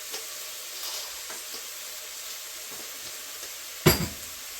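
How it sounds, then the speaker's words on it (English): Chili beans simmer and sizzle softly in a pot with ketchup, mustard and hot sauce, a quiet steady frying hiss with faint scraping stirs and one sharp clank of the spoon near the end. "Just gonna stir that up."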